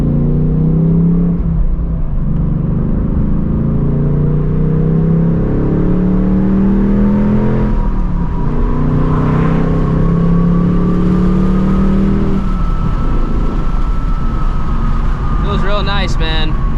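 Inside the cabin of a 2024 Mustang GT during the break-in period, the engine drones steadily with mild acceleration, rising and easing over the ride while someone talks over it.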